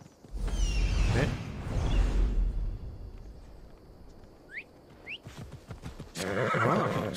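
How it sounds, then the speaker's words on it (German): A horse neighs loudly in the video game Assassin's Creed Odyssey, a long whinny, followed by quieter ambient sounds with a couple of faint chirps and another burst of neighing at the end. "Wir holen uns mal unser Pferd. Gerd."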